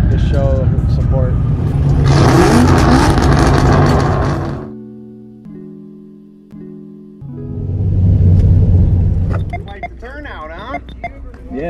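Cars cruising together in a parade, loud engine rumble and revving swelling up and passing, then dropping to quieter idling with people talking, before another loud vehicle pass builds again.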